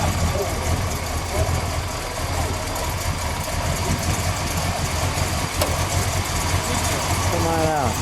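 A 1969½ Plymouth Road Runner A12 with a 440 engine, orange, sits idling with a steady, deep, loping rumble. Voices and background chatter run over it, and a brief rising squeal comes near the end.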